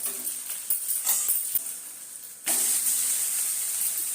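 A multi-millet dosa cooking with oil on a pan: soft sizzle and a few taps at first, then a sudden loud, steady steamy hiss as it is flipped, close and without talk.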